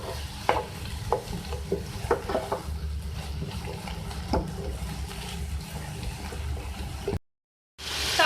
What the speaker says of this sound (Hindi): अब इसके बाद मैं इसमें ऐड करूँगी 2 मीडियम साइज़ की टमाटर, ये भी चॉप है। थोड़ा सा कुक करेंगे।